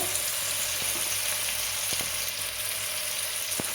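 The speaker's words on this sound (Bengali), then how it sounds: "আদা রসুন পেস্ট আমি তেলে ভালো করে নাড়াচাড়া করে নিচ্ছি।" Ginger garlic paste fries in hot oil with a dense, even sizzle, broken by a few sharp ticks as it is stirred, close by with no voices.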